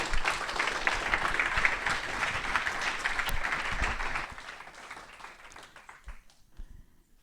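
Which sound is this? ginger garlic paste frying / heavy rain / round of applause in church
round of applause in church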